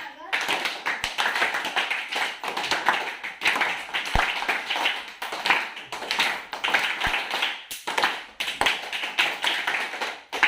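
A group performs a welcome clap, a rhythmic pattern of sharp hand claps repeated in bursts at a close, lively level, with occasional voices in between.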